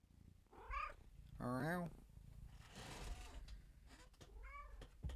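A pet cat meows several times in a row, clear and fairly close, with a person speaking briefly between the calls.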